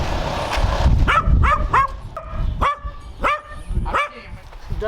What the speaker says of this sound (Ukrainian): А я ж чую, собаки загавкали в Петровні